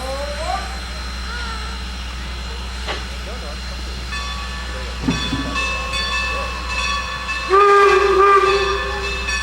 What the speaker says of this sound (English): About halfway through the trip, the two trains meet at Groff's Grove